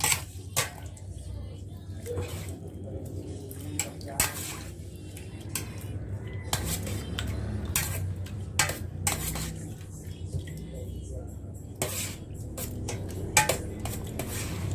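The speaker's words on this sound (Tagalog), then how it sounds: "halo-haloin lang natin" A utensil stirs pork kaldereta in a pot, with scattered metallic clinks and scrapes against the pot rim over about fifteen seconds, fairly quiet and close.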